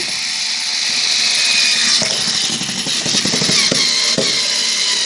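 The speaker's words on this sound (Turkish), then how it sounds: "Şimdi kalın bayağı bir 2 3 milimlik bir tahtayı delmeye çalışacağız" An impact drill in hammer mode whines steadily at close range, its pitch shifting with rattling, knocking bursts as it bores through a thick wooden board.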